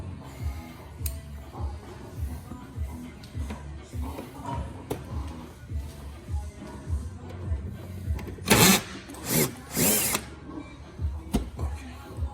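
Power tool working a fender liner bolt on a Porsche Boxster 718 GTS during front bumper removal, a few short whirring bursts near the end over a quiet garage background with low mechanical clicks.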